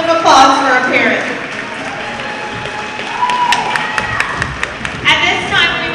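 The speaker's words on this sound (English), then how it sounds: "a round of applause for our parents." A crowd in a school gym at a girls' volleyball match applauds and cheers for a student coach's parents, with bursts of clapping, some shouts and an announcer's voice over a reverberant hall.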